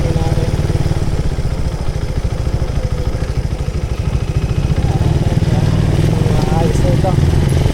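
A motorcycle engine idling during a test at a motorcycle shop, a loud, close, steady rapid putter that runs throughout while people talk over it.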